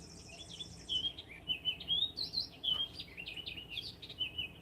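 A bird calls again and again in short chirping phrases, close and clear against a quiet morning background with no talking.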